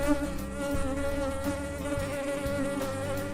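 A bee buzzes close around a beekeeper working at an open hive, a steady high droning hum that continues for several seconds with no talking.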